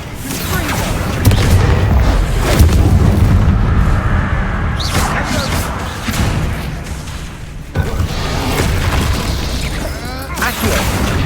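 Confringo spell explosions from the video game Hogwarts Legacy form a dense, continuous barrage of booming blasts and bursts, layered with other loud combat effects throughout.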